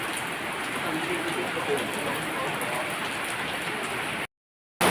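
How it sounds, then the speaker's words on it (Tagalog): Heavy rain pours in a dense, steady hiss close by, unbroken for several seconds before cutting out abruptly near the end. "Lumakas ang ulan."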